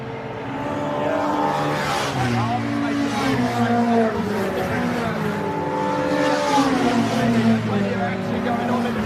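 Mini and MG Cup racing cars, including a Mini Libra, roar around Silverstone in a steady, continuous engine drone with shifting pitches as several cars pass, with a commentator talking over the top throughout.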